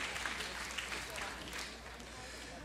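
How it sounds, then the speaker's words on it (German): Audience applause before a harp and beatbox blues show, a dense steady wash of clapping, moderately loud and continuous, with no talk over it. "vielen Dank für den Applaus, ohne dass wir schon was getan haben"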